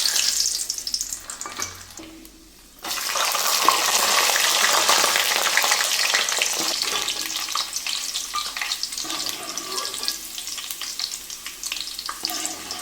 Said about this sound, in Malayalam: ഇനി നമുക്ക് അണ്ടിപ്പരിപ്പും മുന്തിരിങ്ങയും വറുത്ത് പോരാം